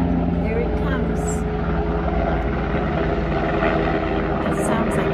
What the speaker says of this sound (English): That sounds like a helicopter, doesn't it?